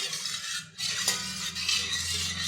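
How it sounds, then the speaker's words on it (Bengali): A spoon stirs a cornflour and grape juice mixture in a bowl, giving steady soft scraping and light clinks against the dish, close by with no talking. "এটা ভালোভাবে মিশিয়ে নিচ্ছি।"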